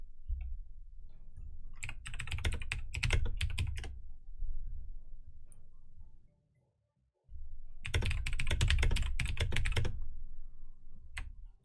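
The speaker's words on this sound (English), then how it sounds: "I was typing" Typing on a computer keyboard during a Dota 2 match, two dense bursts of rapid clicking keystrokes close to the microphone, separated by a brief silence, with no talk.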